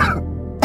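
A man coughs once, close and loud, in a short dry burst that breaks off into quiet, then a sharp catch of breath or a second cough at the end.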